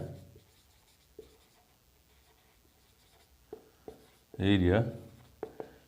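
Pen scratching out a Class 12 NCERT maths area-of-triangles solution: faint intermittent strokes and taps over a quiet room, with one brief louder burst of voice near the end.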